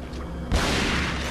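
Gunshot in the Resident Evil 4 Separate Ways video game, a single sudden loud blast with a broad crash of noise that lingers over steady game background.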